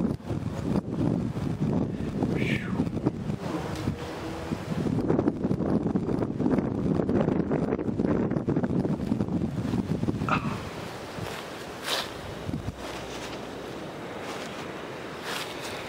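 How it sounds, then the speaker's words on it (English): Strong wind buffeting the microphone outdoors, loud rumbling gusts for about ten seconds before easing into a quieter blustery background. "It is very windy."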